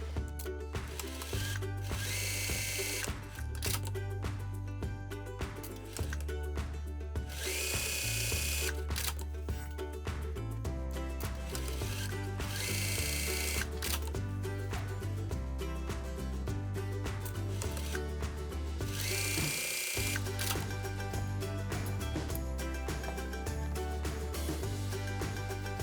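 A sewing machine stitches the shoulder seam of a jumper skirt in several rapid mechanical runs separated by short pauses, its whirring chatter close and loud over continuous background music, with no speech.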